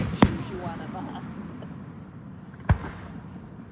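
Fireworks bursting over an outdoor park band concert: two sharp, distant booms about two and a half seconds apart, standing out over a steady low crowd murmur.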